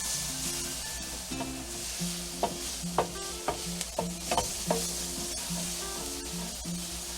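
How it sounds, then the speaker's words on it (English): Red onions sauté in a pan, a continuous low sizzle broken by a run of quick spatula clacks and scrapes in the middle, with faint steady tones underneath. "Let's get these sauteed"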